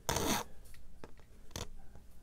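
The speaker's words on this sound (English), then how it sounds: "I am going to now take my chainsaw file and just get these" Steel chainsaw file rasping across a key blank by hand, a long close stroke followed by a few shorter, lighter scrapes with brief pauses between.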